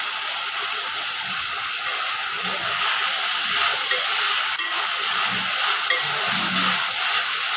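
Chilies, tomatoes, onion, ginger and coconut paste fry in a pan with a steady hissing sizzle, and soft stirring scrapes and small pops rise now and then through the close frying noise.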